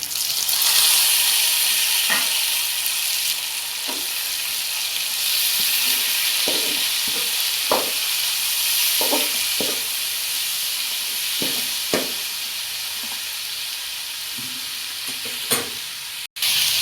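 Green chilies and tomatoes sautéing with onions in a pan for village-style sardine curry, a constant loud sizzle and hiss with scattered stirring knocks and scrapes throughout, no speech.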